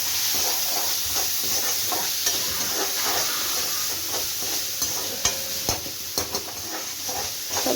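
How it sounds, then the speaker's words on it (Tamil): Onions and tomatoes sauté in a hot pan with a steady sizzle, punctuated by scraping and tapping as a spatula stirs them. "வெங்காயம் தக்காளி வந்து நல்லா வதக்கணும் ஃப்ரெண்ட்ஸ், அப்போ தான் நல்லா இருக்கும்"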